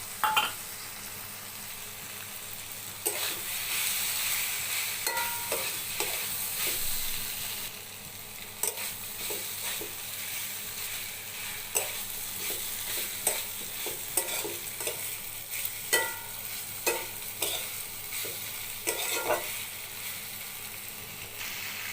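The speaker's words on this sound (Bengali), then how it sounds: "ভেজে রাখা সবজিগুলো দিয়ে ভালোভাবে কষিয়ে নেব" Vegetables and paneer sizzle in hot oil while a utensil scrapes and stirs the pan in repeated strokes, close and steady, with no talking.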